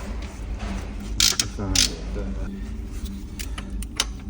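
A car engine being turned over by hand at the crankshaft during a cam oil seal and timing belt job gives a few metallic ratcheting clicks and mechanical creaks, close up, over low background noise and faint voices.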